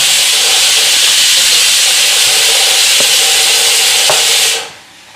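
Loud, steady hiss of steam rushing from a pressure cooker whistle for several seconds, then cutting off abruptly.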